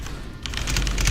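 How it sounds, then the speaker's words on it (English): Rapid computer keyboard typing during a Typing of the Dead Overkill session, a quick rattling burst of key clicks that grows denser after a short quieter start, fairly close. "You can hear his keyboard. It's like a machine gun going off"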